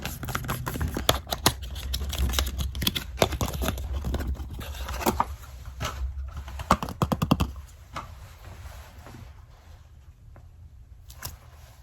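Crinkly tearing and crackling of plastic packaging at close range, with rapid clicks and rustles that thin out toward the end.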